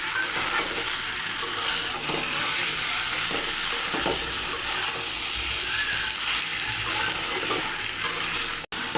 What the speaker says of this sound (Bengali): দেখুন মাংস ভালোভাবে কষানো হয়ে গেছে।